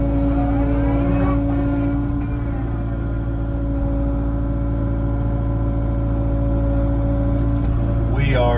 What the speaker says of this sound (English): Obviously, I'm laser digging this ditch.